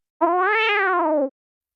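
A lone, clean cat meow rises and falls over about a second, loud and close against total silence, used as a sound effect in a Korean horror folktale narration.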